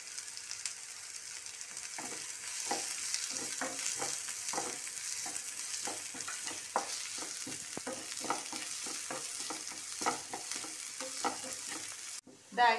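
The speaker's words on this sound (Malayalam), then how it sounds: "നന്നായിട്ട് ഇളക്കാം." Onion frying in a pan for a mango cutlet mixture, a steady close sizzle under a rhythmic series of spatula scrapes and taps, heard alone with no talk, ending in a brief louder knock.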